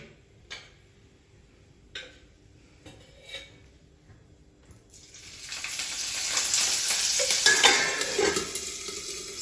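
Green chillies spluttering and sizzling in hot oil in a pan, starting after a few sparse ticks and knocks and building into a loud, dense crackle for the second half, with no talk.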